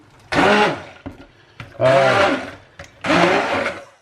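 A blender purees roasted pumpkin, squash and rosemary soup in three loud, close bursts, each a rising whirring roar with short pauses between.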